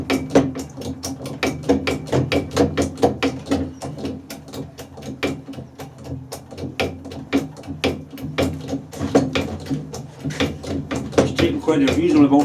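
A broach forced through the keyway of a flywheel, giving a long run of regular ratcheting clunks and mechanical knocks at close range.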